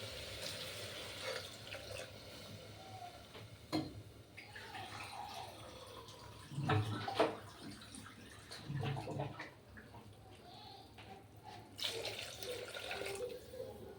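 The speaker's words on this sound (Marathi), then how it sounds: "आता आपण पाणी टाकलं." Water is poured into a pot of rice for veg pulao, a close splashing, gurgling flow that swells and fades in several bursts over about fourteen seconds, with no voices.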